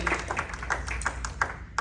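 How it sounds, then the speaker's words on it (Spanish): Church congregation applauding during a Spanish-language service, a fairly quiet run of uneven claps with a few sharper, distinct hand strikes standing out. "¿Le pueden dar un fuerte aplauso a Dios si han recibido bendición de Dios en esta tarde?"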